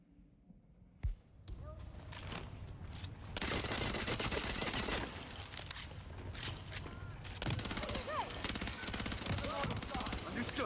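Submachine gun fire in a video game rattles in sustained rapid bursts, loud and dense, after a single sharp shot near the start, with faint voices underneath.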